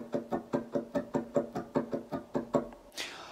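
Acoustic guitar played fingerstyle without a pick, thumb, index and middle plucking even groups of three notes in a steady triplet rhythm, about a dozen crisp close attacks, ending with a brief brushy scrape.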